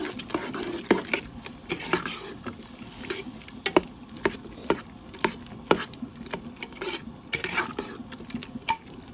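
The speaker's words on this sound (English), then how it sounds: "We're just going to keep it stirred, and I'll bring you back as it cooks down a little more." Peach salsa stirred in a cooking pot, a spoon scraping and clinking against the pot in an irregular run of close, sharp little knocks over a soft steady simmer.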